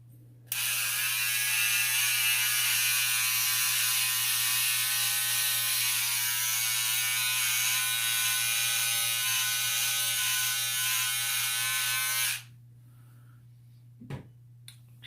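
Electric shaver trimming a beard along the neckline, a steady close buzz that runs unbroken for about twelve seconds and then cuts off, leaving near silence and a small click.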